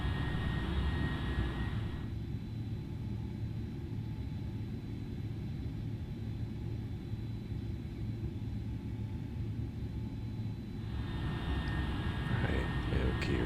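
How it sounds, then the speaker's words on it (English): A passenger airplane on approach to landing with gear down and flaps out fills the cabin with a steady low engine rumble and airflow roar that grows brighter at the start and end, while a voice speaks faintly. "Gear down, flaps out, lights are on, looking good for landing."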